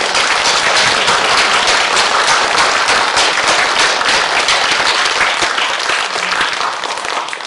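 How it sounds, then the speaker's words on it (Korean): Church congregation in a Korean service applauding in thanks to God, a loud, sustained, dense clapping that fills the room and eases slightly near the end. "하나님께 감사 박수 쳐드리겠습니다."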